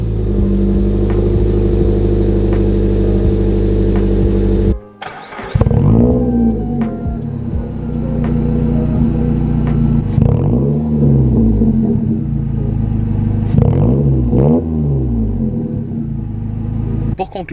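A car engine idles steadily, then cuts out briefly and restarts with a series of revs, the pitch swelling and falling repeatedly, close and loud.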